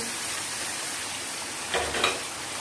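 Ginger, green chili and tomatoes frying in a pan with pumpkin for a Bengali puishak dish, a steady close sizzle with a brief louder hiss and stirring scrape near the end.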